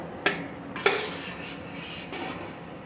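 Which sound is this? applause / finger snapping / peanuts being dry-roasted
peanuts being dry-roasted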